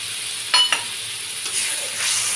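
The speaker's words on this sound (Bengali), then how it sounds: "ভালো করে আমি মশলাগুলোর সঙ্গে উষ্ণ গরম জলটা মিশিয়ে নিচ্ছি।" Spices are stirred with warm water in a pan for a spicy fish curry, giving a soft sizzle with a couple of sharp scraping stirs near the start and gentle bubbling after.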